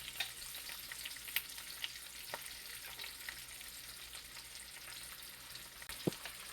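Garlic frying with peppers and onions in a pan, a quiet, steady sizzle with occasional small pops and one brief utensil knock, heard close with no one speaking.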